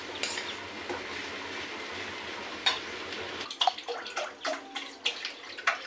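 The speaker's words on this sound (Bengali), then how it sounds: "দেখুন বন্ধুরা কড়াইতে একটু জল দিয়ে দিচ্ছি।" Water is poured into a kitchen wok, a steady splashing rush for about three seconds, then gives way to scattered metallic clinks and scraping of utensils against the pan.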